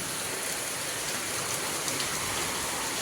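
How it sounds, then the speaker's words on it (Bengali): Steady rain falls continuously, a dense even hiss of drops striking surfaces close by, with no voices over it. "বৃষ্টিটা কিন্তু ভালোই লাগতেছে"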